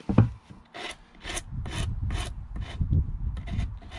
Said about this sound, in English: For most of our work I'll use a Shinto rasp.